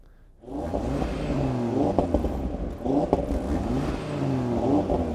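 An Audi RS3 2.5-litre five-cylinder turbocharged petrol engine of 400 horsepower starts up loud and close, then revs repeatedly in rising and falling sweeps with a gruff, throbbing tone.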